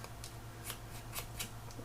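Scissors snip and tatter the edges of paper pieces for a fairytale Christmas mini album, giving about six quiet, crisp cuts at irregular intervals over a low steady hum.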